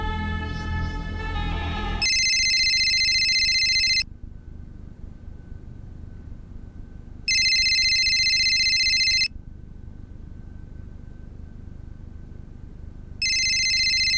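A telephone rings during a ransom-call scene in a crime drama, sounding in three loud, close electronic bursts of about two seconds each, separated by quiet gaps, with no talking over it.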